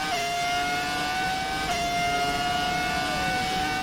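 A classic race car in a racing video game accelerates out of Parabolica at the Italian GP, its engine whining loud and steady at high pitch, with a brief shift and a small drop in pitch near the end.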